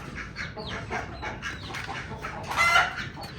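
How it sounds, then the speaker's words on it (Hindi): A hen shut in a shed with her three chicks gives repeated short clucks, with one louder, brighter call near the end, close by and without talk. "इस शेड में आज वो मुर्गी भी बंद है जिसके 3 बेबीज हैं"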